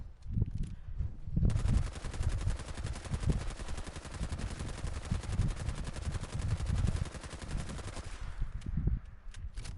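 Automatic gunfire in Fallout 4's Nuka World with a modded gun, a loud rapid burst of shots running continuously for about six seconds, preceded and followed by a few heavier single blasts.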